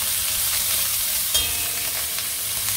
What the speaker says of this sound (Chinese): 跟住咧爆翻啲猪颈肉。